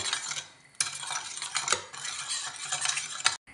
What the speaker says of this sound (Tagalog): Then haluin lang po natin hanggang matunaw po yung cornstarch at saka yung asukal.